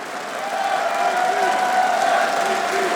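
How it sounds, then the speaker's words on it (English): Crowd of esports fans chanting in unison for LGB during a CS:GO semifinal at ESL One Katowice 2014, a sustained roar of massed voices filling a large arena, steady and loud throughout. "That's a chant right there."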